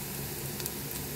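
Chopped garlic sizzles steadily in a pan of oil, a dense continuous frying hiss with a light stir partway through, no one speaking.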